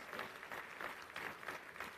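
Distant, faint audience applause at a university convocation ceremony, a soft steady patter of many hands clapping with slight swells.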